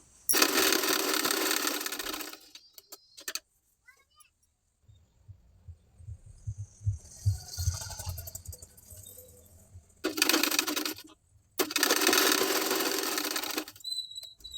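A sewing machine stitches the shoulder seam of a simple blouse in three sustained, loud runs, with a pause of quieter handling sounds between the first run and the last two.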